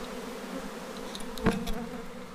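Honey bee swarm buzzing while gathering into a bucket during hive splitting, a low steady insect drone throughout with a brief louder knock near the middle, heard alone at close range.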